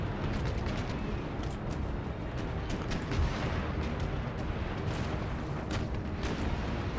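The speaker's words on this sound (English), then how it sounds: "Hopefully Hornet should be able to get some quite good shots off." Naval cannons fire in the video game Empire Total War during a ship battle, a dense continuous rumble of booming broadside volleys with scattered sharper reports, loud and sustained throughout.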